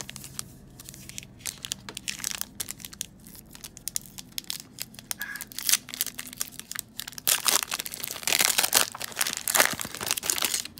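Foil Panini Prizm draft picks card packs are torn open close by, giving continuous crinkling and ripping that grows louder and denser toward the end, with no talking.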